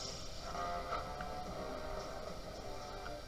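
Goat bleats from the Shrek 2 video game on PS2, a few short, nasal cries rising over a busy game soundscape of music and ambience.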